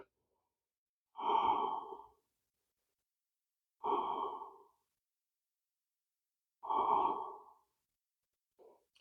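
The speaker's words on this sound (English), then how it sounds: "Enjoy the pace of the breath settling with no work." Slow, relaxed breathing during a seated chair yoga session for the core: three long, soft exhalations or sighs spaced evenly a few seconds apart, close and alone with quiet between them.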